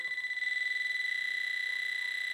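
Metal detector pinpointer right over a target, emitting a continuous high-pitched pulsing buzz, steady and close, with nothing else audible.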